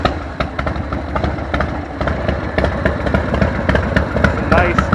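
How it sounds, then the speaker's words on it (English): The warm engine of a 1995 Harley-Davidson Dyna Super Glide with a freshly tuned carburetor idles steadily nearby, giving a loud, even, rhythmic low pulse with someone speaking over it. "It's a nice, smooth running engine."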